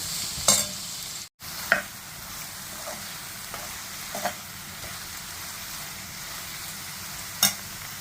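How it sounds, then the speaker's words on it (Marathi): Soft continuous sizzling of vegetables sautéing in a pan for veg biryani, with occasional clinks and scrapes of a spoon stirring, close by and fairly quiet. "आता ह्याला परतून घेणार"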